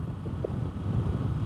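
Strong wind gusting across the microphone on a bike ride near Jog Falls along the Sharavati river, a steady low roaring rumble that fills the whole moment with no voices.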